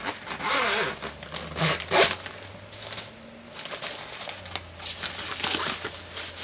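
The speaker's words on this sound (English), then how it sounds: "The Robert Welsh palette zips up into it." A makeup bag holding a Robert Welsh palette is zipped up with several short, quiet zipper pulls and handling rustles, close but faint.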